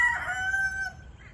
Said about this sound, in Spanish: Les cuento que las gallinas ya salieron